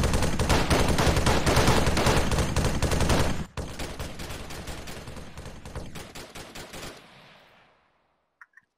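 Rapid machine-gun fire and shots from a military patrol mission in a combat video game, loud and dense for about seven seconds, then thinning out and fading, with two faint clicks near the end.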